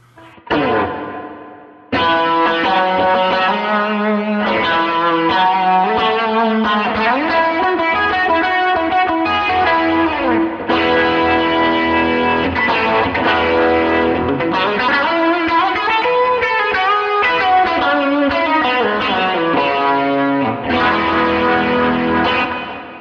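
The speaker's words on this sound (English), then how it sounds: "Let's switch it to overdrive instead and just crank that overdrive all the way up." Electric guitar through a Line 6 Pod Express with overdrive fully cranked, playing sustained chords and melodic lines, thick with shimmering chorus and a wash of reverb, loud and continuous after a brief quiet start.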